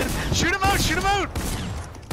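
Rapid Fortnite gunfire in a dense burst, heard under a shouting voice close to the mic.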